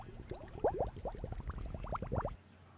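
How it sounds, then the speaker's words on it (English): Bubbles sound effect from the Scratch programming software, a quick run of bubbly popping blips that rise in pitch, closely spaced and fairly soft, lasting about two seconds before stopping. "go to sounds, play sound, bubbles until done"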